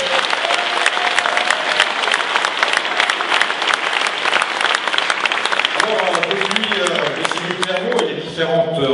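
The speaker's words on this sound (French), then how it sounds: "vous pouvez également les applaudir" Loud, sustained audience applause at a French political rally supporting a mayoral candidate, a dense crowd clapping throughout, with voices rising underneath near the end.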